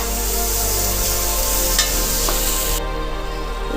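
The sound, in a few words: frying spice paste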